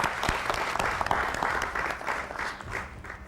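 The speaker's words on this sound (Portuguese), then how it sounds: "Uma salva de palmas" Dense, steady audience applause fills a hall at a talk on sport as a tool for unity and development, a continuous wash of many hands clapping close by, thinning slightly toward the end.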